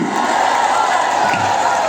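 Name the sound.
crowd applauding and cheering for Amit Shah at rally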